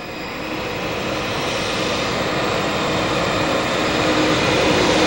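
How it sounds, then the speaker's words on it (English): Air Force One, the presidential jet, at Alexandria airport in Louisiana gives off a loud, steady engine roar that swells slightly and holds without pause, with no voices over it. "Air Force One at the Alexandria Airport."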